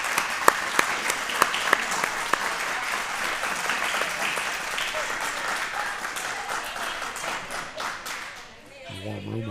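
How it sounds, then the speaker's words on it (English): Warm applause fills a curling hall for a winning team at a youth championship, many hands clapping steadily and fairly near, a few sharp individual claps standing out before the clapping thins and fades at the end. "Warm room applause to Team Nigeria, victorious on New Zealand."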